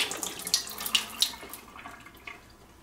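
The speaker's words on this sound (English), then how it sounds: "you want to tilt your machine this way to drain out all the water" Water pours out of a tilted Homedics ultrasonic humidifier base into a sink, a close splashing gush with a few louder spurts that tapers to a quieter trickle.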